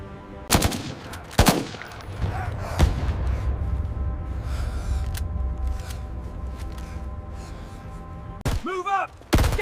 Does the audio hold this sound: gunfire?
yes